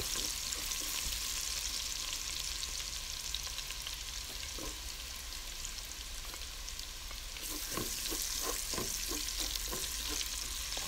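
Garlic and ginger sautéing in a pan for laing: a soft, steady sizzle with occasional scrapes, then a quick run of rhythmic stirring strokes near the end.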